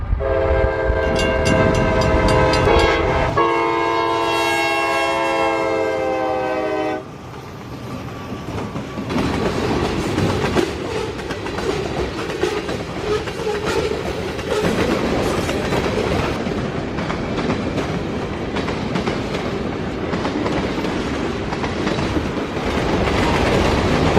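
A freight train rumbles past close by, its horn blaring for the first several seconds before steady clattering wheels and rolling noise continue.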